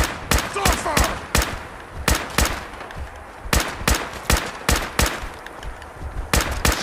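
Gunfire in Fallout 4 fills the scene: loud, close shots crack out in quick irregular bursts, roughly twenty in a few seconds, over a faint background of game noise.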